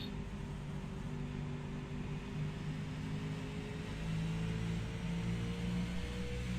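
Steady drone of a NASCAR race car engine in the iRacing video game at Phoenix, a sustained hum with slowly shifting pitch and no talk.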